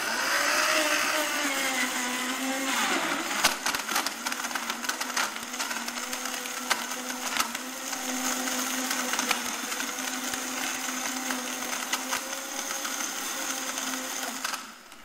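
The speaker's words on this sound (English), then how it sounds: "Andi, I put in my dried tomatoes with my Vitamix" A Vitamix blender runs steadily at high power, churning dried tomatoes and dates into sauce, with a loud continuous whir and a brief pitch shift early on as the load changes.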